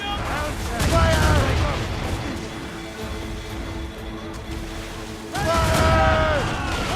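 Warship cannons firing in a naval battle in Assassin's Creed Rogue, booming volleys amid rolling sea noise, with crew voices shouting orders over the gunfire.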